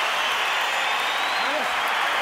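Boxing arena crowd at a De La Hoya fight roaring with cheers and applause after a hard right hand, a dense steady wash of noise throughout with a commentator's voice faintly underneath.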